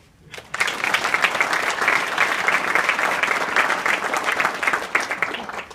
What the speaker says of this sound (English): give yourself a nice round of applause